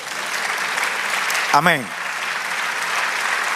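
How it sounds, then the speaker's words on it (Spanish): A church congregation applauds through the clip with a steady wash of clapping, broken by a single voice briefly calling out in the middle. "Denle aplauso al Señor."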